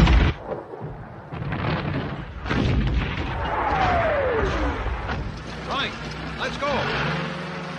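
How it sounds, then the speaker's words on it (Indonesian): Allied artillery cannons fire in a World War II film battle scene, several heavy booms and rumbling bursts overlapping in a noisy, chaotic mix with a voice speaking over the top. "ditandai dengan ditembakannya meriam-meriam artileri dari pihak sekutu"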